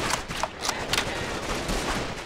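Rapid machine gun fire and other gunfire from a World War II battle in the video game Call of Duty 2: Big Red One, a dense, continuous crackle of overlapping shots with no pauses.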